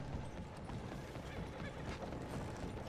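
Horse hooves clip-clopping with a brief whinny in Red Dead, fairly faint amid game background noise.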